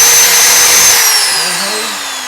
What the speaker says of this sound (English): Personally, I take my drill and just find the spot.